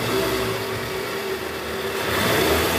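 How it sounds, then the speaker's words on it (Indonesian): A Toyota Estima engine, repaired after a worn balancer shaft, runs smoothly at a steady idle with a low, even hum and a slight rise in revs near the end, close by and free of speech. "suara mesinnya udah halus sekarang, udah nggak kayak mesin diesel"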